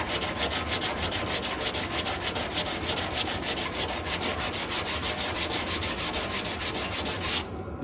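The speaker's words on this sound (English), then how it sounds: "We'll sand that in down there." A sanding block with 180-grit sandpaper scrubs back and forth over the metal tailgate of a C10 truck in a steady, loud, evenly paced rasping rhythm that stops abruptly at the end.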